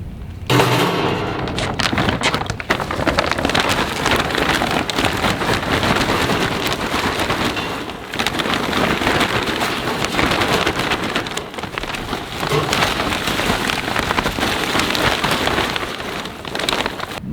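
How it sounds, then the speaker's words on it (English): Charcoal is poured into the firebox of an M36 grill and smoker, a loud, continuous rushing clatter of lumps tumbling onto metal that lasts many seconds with only brief dips, close and unbroken by talk. "if I'm going to load this with charcoal, like you see here"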